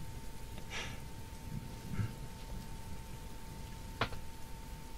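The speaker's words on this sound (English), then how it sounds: "It should just be the rain sound." Soft, steady rain ambience plays low as a quiet bedtime background, a faint continuous patter with a thin steady hum and a few small isolated taps.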